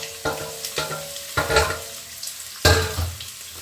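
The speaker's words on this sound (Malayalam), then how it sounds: "വെളുത്തുള്ളി ചെറുതായിട്ട് മൂക്കുമ്പോൾ തന്നെ നമുക്ക് ബാക്കി സവോളയും പച്ചമുളകും ഒക്കെ ഇട്ട് ബാക്കിയെല്ലാം ഒന്നിച്ചങ്ങ് ഇട്ടേക്കാം" Garlic, onions and green chillies frying in a pan, with a steady sizzle broken by several sharp stirring and scraping bursts at irregular intervals, close and fairly loud.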